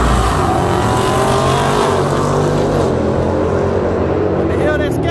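Modified Dodge muscle cars, one a former SRT build, race at a roadkill-style drag event in Las Vegas, their engines roaring loud and steady with a passing whine, while onlookers talk over the noise.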